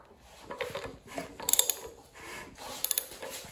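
A Ford 289 V8 on an engine stand is turned over by hand, giving close ratcheting clicks and mechanical clunks in irregular bursts, with no talking.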